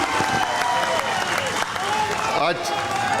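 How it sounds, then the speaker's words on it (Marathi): Loud, dense applause from a large crowd at a Shiv Sena district rally in Satara, Maharashtra, with cheering voices mixed in, sustained throughout with a brief dip near the end. "हात वर करायचा, जोरदार टाळी."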